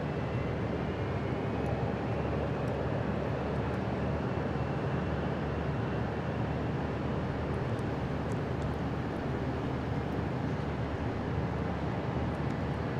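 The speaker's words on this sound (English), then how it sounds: "Looks like our next arrival will be an Embraer Phenom from Belmar." An Embraer Phenom corporate jet arrives at Dallas Love Field, a steady distant jet rumble and airport noise that stays constant throughout with no talking.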